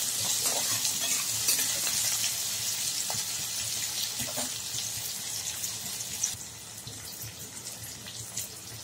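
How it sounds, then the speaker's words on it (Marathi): Potatoes frying in a pan for a Maharashtrian roti churma-style dish, with a continuous close sizzle and occasional stirring scrapes that ease slightly toward the end. No one speaks. "बटाटे पण छान असं फ्राय होऊ द्यायचे पहा"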